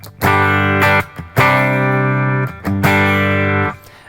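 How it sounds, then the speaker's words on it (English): Clean electric guitar chords through a Zoom MS-50G multistomp amp model ring out in three sustained strums separated by brief gaps, with a light reverb tail. "This is my clean signal with just a touch of reverb."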